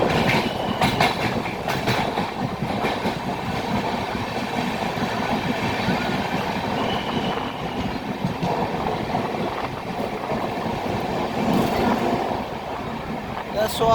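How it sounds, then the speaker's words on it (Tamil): A train rumbles steadily along the rails through a mountain tunnel on the way to Mumbai, with a continuous clattering roll, loud and close throughout. "மலையில் பூந்து ரயில் போகுது."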